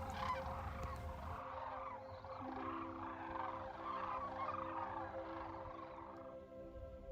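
Sandhill cranes calling in the distance, faint rattling, honking cries repeated over several seconds against soft outdoor background, with no voices.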